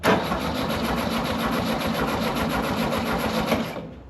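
A VW dune buggy engine cranks over steadily and continuously during a fuel pump test, a loud mechanical whir with a rapid regular pulse that stops abruptly near the end.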